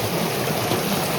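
A waterfall in a mountain stream gives a steady, dense rush of water that stays constant and fairly loud for about a second, with no voices.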